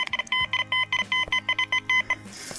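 Metal detector signaling over a coin during a dig in Ukraine: a run of rapid, evenly spaced electronic beeps in bursts, close and clear with no talking.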